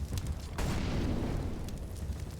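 A grenade bursts between two players in a CS:GO pro match on the Ancient map, a sudden broad boom that rolls into a noisy, sustained rumble over steady game ambience.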